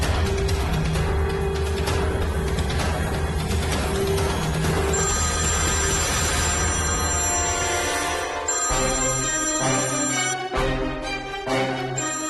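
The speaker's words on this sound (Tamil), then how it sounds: "போன் அடிக்குது பாருங்க." A telephone rings in a home scene of a Tamil TV serial, its repeated electronic ringtone pattern playing loudly over a dense background music bed, with no talking.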